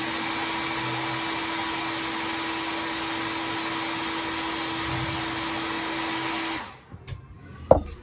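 A hair dryer blows steadily at close range to dry paint, a constant whirring roar for several seconds before it switches off, leaving a few small knocks and handling noises.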